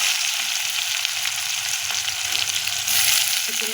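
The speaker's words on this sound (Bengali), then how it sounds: "তারপরে পেঁয়াজগুলো দিয়ে দেবো" Dried onions frying in hot oil with whole cumin, garam masala and dried red chilli for banana-flower chops, a bright steady sizzle with light crackling, moderately loud and rising briefly near the end, no voices.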